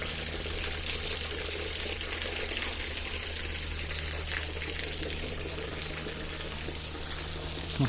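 Steady running water flows beside a very old shrine in Todoroki Ravine, Tokyo, a continuous moderate wash and gush holding evenly throughout with no talk over it.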